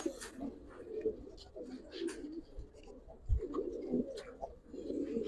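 Giribaz pigeons coo softly nearby, repeated low, throaty coos rising and falling over faint background noise.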